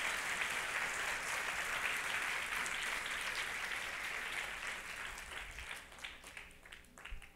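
A church congregation applauds at a Christian service, a dense and fairly distant wash of many hands that holds steady, then thins into scattered claps near the end.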